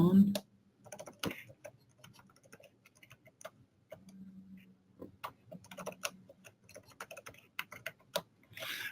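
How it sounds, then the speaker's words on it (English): Username and password keys tapped on a computer keyboard, irregular clicks in quick clusters with short gaps, close and fairly quiet, a faint low hum underneath. "Put in my username and password."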